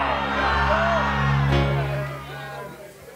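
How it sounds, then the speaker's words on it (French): A church congregation shouts hallelujah together, a loud mass of overlapping cries and a sustained held voice that swells and then fades. "Comment vous pouvez crier Alléluia, gloire?"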